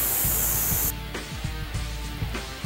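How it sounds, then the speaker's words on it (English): An airbrush spraying a gray paint mixture onto an Ironman helmet, a steady hiss that cuts off shortly after starting, followed by quieter bumps and handling noises. "we'll spray our gray mixture around the outer edges"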